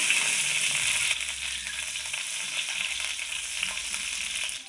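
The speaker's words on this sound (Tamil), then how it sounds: "கடுகு நல்லா பொரிஞ்ச உடனே ஒரு கொத்து கருவேப்பிலை சேர்த்துக்கலாம்." Curry leaves crackle and sizzle loudly in hot sesame oil with popped mustard seeds in an iron kadai, a steady dense frying hiss that eases slightly after the first second.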